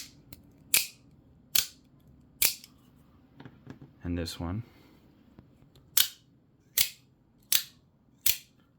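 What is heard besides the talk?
Microtech Scarab 2 OTF knife blade firing, no spring sing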